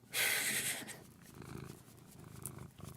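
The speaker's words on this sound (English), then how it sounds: "I love hearing your kitty mew and purr." A close cat purr, soft and rumbling, with a brief louder breathy burst at the start, then steady quiet purring.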